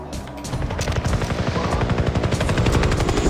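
Helicopter in the Far Cry 3 video game, a steady rapid rotor chop that stays loud and continuous throughout, mixed with dense bursts of game gunfire and other action noise.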